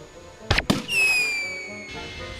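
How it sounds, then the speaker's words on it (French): A cartoon distress flare or firework goes off: two sharp cracks in quick succession, then a bright descending whistle that fades into a lingering hiss. "un feu d'artifice. Une fusée de détresse?"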